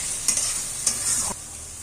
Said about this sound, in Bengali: রসুন বাটাটা দিয়ে দিলাম পেঁয়াজের সাথে